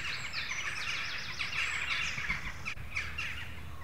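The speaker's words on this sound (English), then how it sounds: "Lots of bird life coming to the spilt grain." Wild birds gather at spilt grain in the countryside, a dense chorus of chirps and calls running continuously at moderate distance, with a harsher caw near the end.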